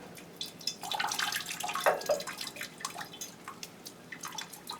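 Water dribbling and dripping from freshly watered orchid pots filled with new bark, a close, irregular patter of small drips and trickles that swells in the middle and thins toward the end.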